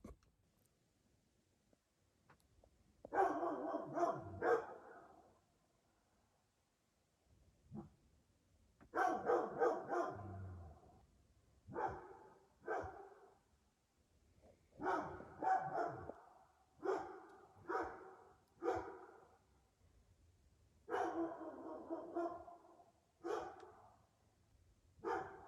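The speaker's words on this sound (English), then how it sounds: "it barks and barks and barks and goes around the RV" A loose dog barks outside an RV in repeated bursts of several sharp barks, separated by quiet pauses. The barking sounds fairly faint and somewhat distant.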